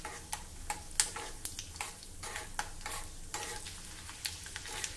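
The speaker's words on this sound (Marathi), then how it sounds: "हे बघा, हे शेंगदाणे छान परतवून झाले।" Peanuts and cumin roasting in a pan, with a soft, continuous sizzle broken by repeated light scraping and ticking strokes as they are stirred, fairly quiet and close, with no talking.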